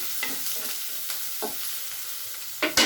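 Ridge gourd pieces fry in a pan with salt and chilli powder, a steady low sizzle broken by a few scraping stirs and a louder clatter of the spoon near the end, with no talking.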